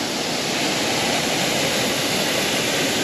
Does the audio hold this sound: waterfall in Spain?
yes